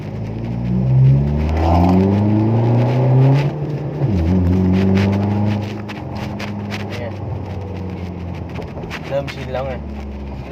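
A car accelerates hard at full throttle from first gear, the engine note climbing loudly with a brief dip at a gear change, while people talk in the cabin over it.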